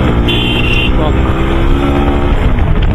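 A modified Apache 160 4V motorcycle engine drones steadily underneath heavy wind buffeting while the bike is ridden, and a voice talks over the noise.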